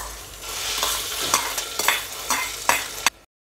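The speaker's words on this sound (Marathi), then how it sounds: "आता हे मूग भाजून घेतलेले मूग आपण यामध्ये टाकू।" Roasted mung beans being stirred into a frying pan for a traditional Marathi mugache medge, with a steady sizzle and several sharp scraping strokes of the spoon, close and loud, no talking.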